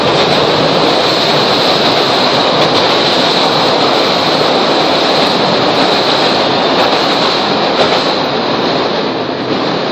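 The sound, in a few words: train passing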